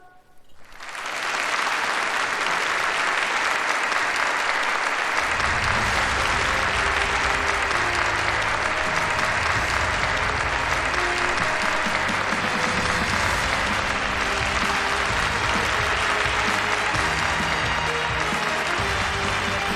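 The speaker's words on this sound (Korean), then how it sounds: "열광적인 박수를 보내줍시다." An audience applauds at an awards gathering in North Korea that honours its top athletes and coaches: after a short quiet lead-in, loud, sustained, thunderous clapping swells and carries on unbroken for nearly twenty seconds.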